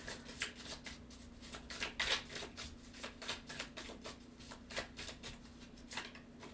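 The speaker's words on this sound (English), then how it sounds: "I'm gonna pull a couple of cards. Let's pull some cards for advice." A deck of tarot cards is shuffled by hand in a steady run of soft riffling flutters, close and quiet, with no talk.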